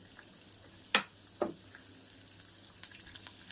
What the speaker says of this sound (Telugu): అదే ఆయిల్లో ఒక స్పూన్ పచ్చెనపప్పు వేసుకుందాం ఒక స్పూన్ మినపప్పు అర స్పూన్ మెంతులు